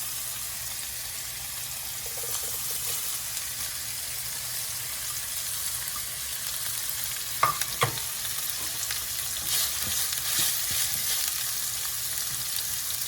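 Steady sizzle of frying in a pan with pre-cooked green beans being added for a Chinese garlic sauce shrimp dish, continuous and close, with a few brief clinks and stirring knocks midway.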